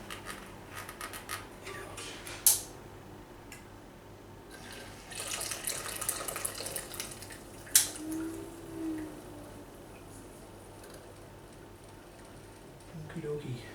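Coolant draining out of a PC water-cooling loop during an AMD CPU block install, a steady soft trickle and splash running throughout with a couple of sharp clinks, fairly quiet and close.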